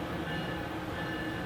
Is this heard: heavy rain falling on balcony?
no